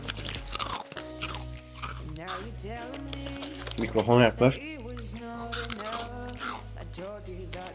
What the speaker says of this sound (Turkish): Şöyle küçük küçük ekmekçikler böyle kıtır kıtır.